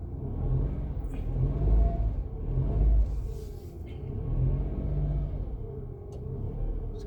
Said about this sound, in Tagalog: kailangan natin painitin yung makina